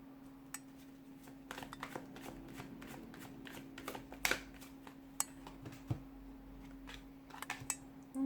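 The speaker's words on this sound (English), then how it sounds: "give the cards a shuffle," A deck of tarot cards is shuffled in quiet, irregular bursts of soft riffling and crisp snaps, faint and close, with a steady low hum underneath.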